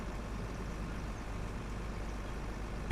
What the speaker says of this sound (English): We have the Mack truck.